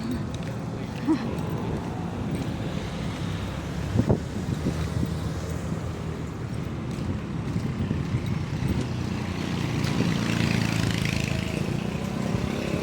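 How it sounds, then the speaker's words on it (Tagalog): Steady wind rushes and buffets the microphone throughout, with a low roar like water or a boat underneath. "Sarap ng hangin."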